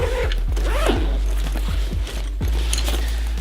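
A zipper on the carrying bag of a Coman KX3939 tripod is pulled open in several quick, close rasping strokes, loud and with no talking.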